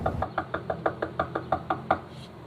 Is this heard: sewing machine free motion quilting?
no